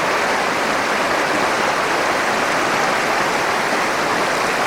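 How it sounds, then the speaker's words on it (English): Fast river water rushing through the torrent at Kengal Rapids, a dense, loud and continuous roar of white noise, close and unbroken with no voices. "This comes down into the fastest bit of water we've got here, which is an absolute torrent."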